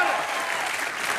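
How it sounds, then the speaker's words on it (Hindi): A studio audience at a comedy show claps loudly and densely in a short, sustained burst, with a voice faintly underneath. "जोरदार तालियां इनके लिए।"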